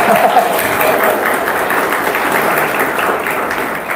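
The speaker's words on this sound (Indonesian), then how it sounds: "Boleh tepuk tangan, tidak apa-apa." Applause from a large audience, a dense wash of clapping that stays steady then eases slightly, with a voice briefly at the start.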